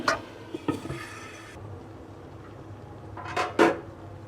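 A metal lid clanks onto a cooking pot of potato and aubergine curry with ghee rising, two brief clattering knocks a few seconds apart over a low kitchen hum.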